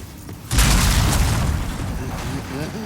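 Wooden boards collapsing under a character in the PS5 remake of Demon's Souls: a sudden heavy booming crash, deep and loud, settling into a rumbling crumble, with faint talk underneath.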